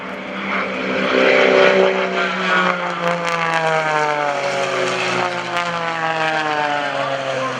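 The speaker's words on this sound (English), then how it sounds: "high-speed passes as Greg Connell pulls out" Propeller aerobatic planes flown by Greg Connell and Gary Ward make high-speed passes in trail at the 2015 Greenwood Lake Airshow, a loud, steady engine drone that swells and shifts pitch as the aircraft sweep past, with no talk.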